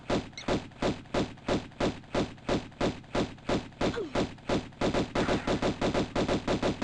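Lara's paired pistols firing in Tomb Raider Remastered, loud shots in a steady, evenly spaced rhythm that quickens into a faster volley near the end, with no voices over them.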